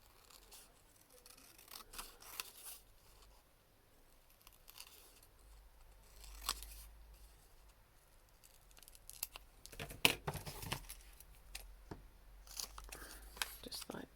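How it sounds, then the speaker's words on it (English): Pinking shears snipping paper tickets, scattered crunchy cuts heard close by but faintly, with quiet talk between them. "when it comes to cutting tickets out, I use pinking shears."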